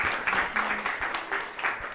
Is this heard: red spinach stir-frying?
no